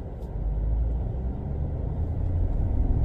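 A 2023 Chevy Silverado ZR2 Bison pickup pulling out of deep sand with its differentials locked, a steady low engine rumble and drone, close and fairly loud throughout, with no one talking.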